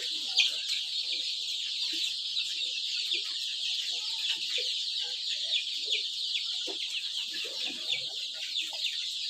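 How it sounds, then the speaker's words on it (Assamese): Many local chickens on a small poultry farm keep up a dense, continuous chorus of clucking and chattering, fairly close, with scattered louder individual calls and no talk. "এই দেখিছেনে কিমান মুৰ্গী?"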